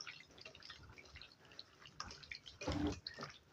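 Chicken gravy ingredients are stirred together with yogurt in a bowl, giving soft wet squelching and dripping sounds in irregular bursts, close and quiet, with one louder splashy stir near the end.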